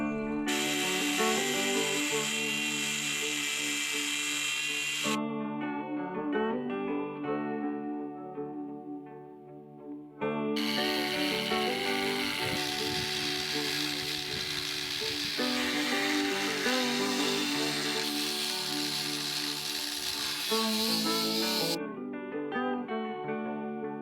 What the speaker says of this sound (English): we're going to try our pretty weak little grinder versus this chassis